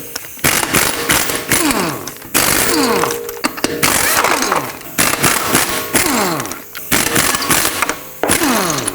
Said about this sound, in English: 19mm socket, remove all 5 of your lug nuts